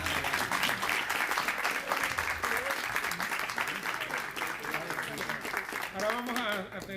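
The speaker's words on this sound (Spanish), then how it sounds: "pido ahora un aplauso a la memoria del presidente Carlos Prío" A room of people at a book presentation about Cuban president Carlos Prío applauds in his memory, sustained clapping with voices rising through it toward the end.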